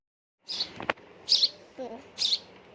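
A baby bird chirps close by, giving three bright, short high-pitched chirps spaced about a second apart, with a soft click and a low rustle between them.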